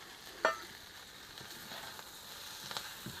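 Chicken meat frying in a pan for vegetable chowmein at a rural Nepali village kitchen: a faint, soft sizzle with a sharp clink early on and a few small crackles.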